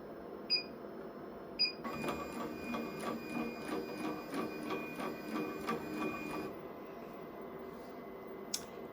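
An embroidery machine sews a placement stitch for a sunflower key fob, a fast steady mechanical chatter of needle strokes lasting several seconds, with a couple of beeps before it and a brief clatter after it stops.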